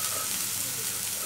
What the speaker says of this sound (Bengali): এইবারে এগুলোকে আমি হালকা করে মিশিয়ে নেব, তেলের সাথে একটু ভাজা ভাজা করে নেব